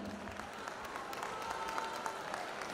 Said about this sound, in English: Gentlemen, a round of applause to the 45 delegates of Miss Tourism International.